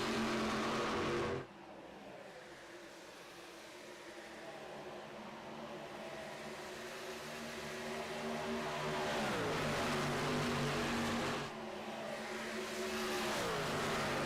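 Racing truck engines in a truck-series racing video game, a steady roaring drone of several vehicles that swells and fades as they pass, without talk.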